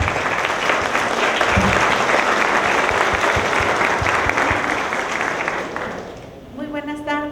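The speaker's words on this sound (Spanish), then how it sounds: "les pido un fuerte aplauso" Loud, dense applause from a conference audience welcoming a speaker to a keynote lecture, steady for about six seconds before tapering off as a voice begins talking.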